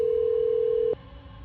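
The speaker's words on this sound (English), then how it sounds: "you grab your phone and try to make a call for help" A telephone dial tone hums as one steady, clear pitch for just under a second, then cuts off abruptly into quiet room noise.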